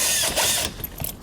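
Ratchet with a 7mm socket backing out a trim panel screw inside a 2021 Chevrolet, giving a quick burst of close mechanical clicking and rattling, with no talk.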